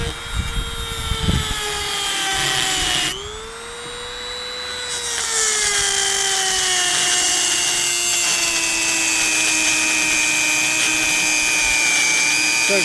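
A power tool cuts through metal during a heat exchanger blower motor replacement on a Country Coach, sending up sparks; a loud, close, sustained whine shifts in pitch as the cut progresses, briefly dropping before rising again.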